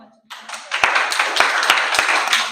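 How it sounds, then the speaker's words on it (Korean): An indoor audience at an artist talk breaks into applause after a short silence, a burst of many hands clapping close by with several sharp, louder individual claps standing out. "박수 한번"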